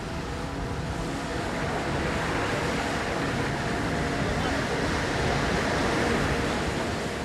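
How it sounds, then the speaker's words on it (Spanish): A boat ploughs through a strong sea swell, giving a steady, dense roar of wind and water that does not let up. "El fuerte oleaje dificulta la navegación"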